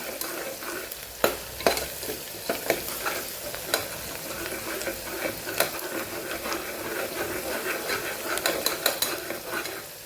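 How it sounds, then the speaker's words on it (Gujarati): Onions fry and sizzle in a pan for a Kathiyawadi curry, with ginger-garlic paste going in; a steady sizzle runs throughout, broken by scattered sharp clicks and scrapes of a spoon stirring against the pan, close and moderately loud. "થોડી આપણી ડુંગળી સતળાઈ જાય પછી આદુ લસણની પેસ્ટ ઉમેરી દઈશું।"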